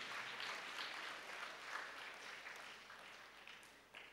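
A church congregation applauds the choir with steady, dense clapping from many hands, sustained and even throughout, heard from a distance in a large reverberant space.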